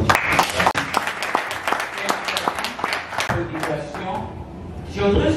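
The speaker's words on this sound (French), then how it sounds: "est-ce qu'on ne peut pas acclamer les coachs" A conference audience applauds the coaches with sustained, close clapping that shows distinct individual claps, and voices talk over it in the final second.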